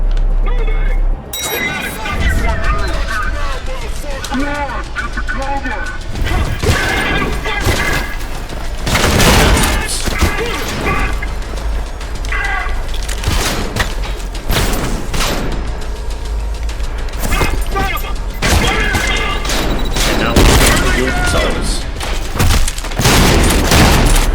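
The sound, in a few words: gunfire in video game Trepang2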